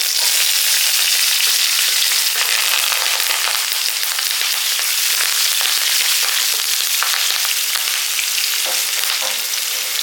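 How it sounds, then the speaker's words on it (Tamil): Hot oil sizzles loudly and steadily as shallots and curry leaves fry, with constant crackling and popping throughout. "இப்போ சின்ன வெங்காயமும் நாலு பட்டை வத்தல் கருவேப்பிலை தாளிக்கிறதுக்கு எடுத்து வச்சுருக்கேன்"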